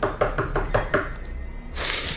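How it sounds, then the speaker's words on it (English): Five quick, evenly spaced knocks on a door, loud and close, then a short pause before a burst of bright hissing noise. "someone knocked on the door"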